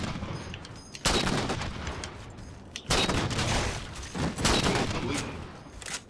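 Rapid gunfire bursts in the Halo: MCC video game during an online match, loud repeated blasts with a sustained fusillade texture, separated by short quieter gaps.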